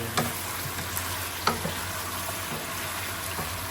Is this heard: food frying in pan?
yes